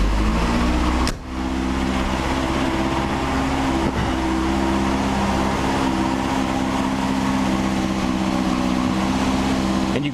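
A 1989 Lotus Esprit Turbo engine turns over and catches at about one second, then idles steadily and loudly with a low, constant rumble.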